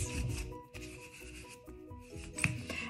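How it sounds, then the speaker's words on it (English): A squeegee pushes dry grout into the gaps of a mosaic, making a close, quiet gritty rubbing and scraping in several uneven strokes with short pauses, with no talking. "as I'm pushing down, I'm squashing all that grout into all those gaps"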